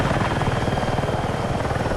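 Helicopter flying in Battlefield 6, a loud, steady rotor thump with a dense rhythmic chop and engine whine, heard close and continuous without talk.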